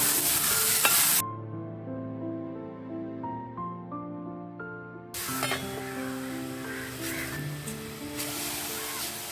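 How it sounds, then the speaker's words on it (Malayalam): Ash gourd and onion stir and sizzle in a pan, with steady frying hiss and scraping stirs throughout, loud at the start and end with a quieter stretch in the middle where a musical background dominates. "ഇനി ഒന്ന് ഇളക്കിയിട്ട് അടച്ചു വെക്കും അല്ലേ?"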